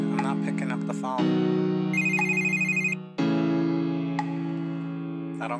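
A phone ringtone plays loud and close in a room: a bright, repeating electronic melody with a short break partway through before the ringing resumes.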